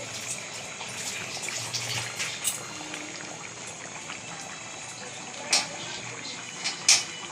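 Hands rinsed under a running kitchen tap: a steady, soft stream of water with trickling and splashing, punctuated by a few brighter splashes near the end, no speech.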